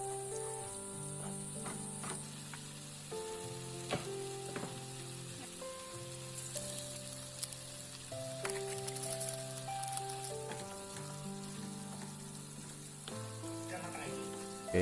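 Sambal with fried tongkol tuna sizzles in a frying pan, a steady crackling hiss beneath background music, with no talking.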